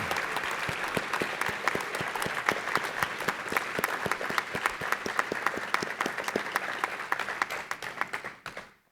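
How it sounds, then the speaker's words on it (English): Sustained applause from an audience of superintendents and guests at a 2022 Ronald Reagan Presidential Foundation scholars program ceremony, dense steady clapping for about eight seconds that fades out at the end. "please stand up for just a second so we can applaud all of your support for these students"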